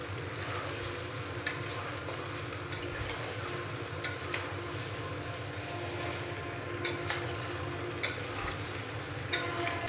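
Mutton and fried potatoes being stir-fried together in a pan, a steady soft sizzle with periodic scraping clicks of a spatula against the pan, fairly faint and close.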